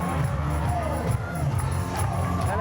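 A big crowd cheers along the route of the 2017 Nanaimo Pride Parade, a busy wash of shouts, whoops and chatter rising and falling throughout, with scattered voices close by.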